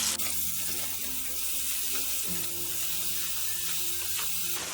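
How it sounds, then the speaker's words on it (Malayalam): Four chopped tomatoes hit hot oil in a pan for karahi chicken and sauté with a loud, continuous, close sizzling hiss, a brief bump of extra noise midway, and no voices. "ഈ സമയം 4 ടൊമാറ്റോ കട്ട് ചെയ്തെടുത്ത് വെച്ചിരിക്കുന്നത് ഇതിലേക്ക് ഇട്ടിട്ട് വഴറ്റി കൊടുക്കാം"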